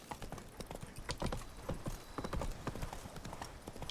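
Geralt's horse Roach gallops in The Witcher 3: Blood and Wine, with a steady run of loud, close hoofbeats and a faint whinny under game ambience.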